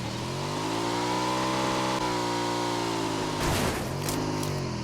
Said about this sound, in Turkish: Daha yeni bir motoru bulduk.